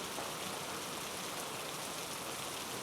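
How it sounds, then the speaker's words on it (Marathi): Heavy monsoon rain falls in Raigad district near the Savitri River as a soft, even, continuous hiss, fairly faint and uniform throughout, with no voices. "मुसळधार पाऊस सुरू आहे"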